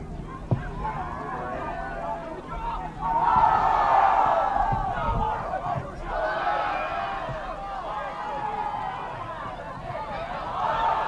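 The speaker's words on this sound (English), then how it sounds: "Crowd getting into it." Crowd noise from spectators at a boys' varsity high school soccer game, a broad roar of cheering and shouting that swells after a few seconds and holds steady, with a sharp knock near the start.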